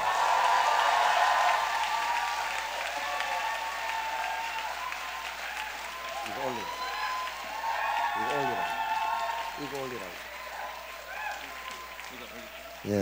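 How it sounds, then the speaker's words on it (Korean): A church youth worship congregation applauds to welcome the senior pastor forward. Thick, steady clapping fills the room at moderate volume, while a voice talks over the later part. "우리 박수로 정은주 담임 목사님을 모셔보도록 하겠습니다"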